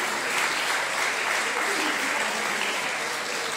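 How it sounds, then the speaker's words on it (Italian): Audience applause at a 2023 school music recital as a young piano student is called up, a dense, steady wash of clapping held at even strength throughout, close and full, with no speech over it. "Un applausone."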